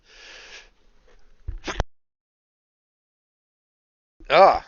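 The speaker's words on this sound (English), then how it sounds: "had a quick sneeze coming out of me" A single sharp sneeze bursts out near the mic after a stretch of quiet, preceded by a brief breathy sound and a short inhaled gasp.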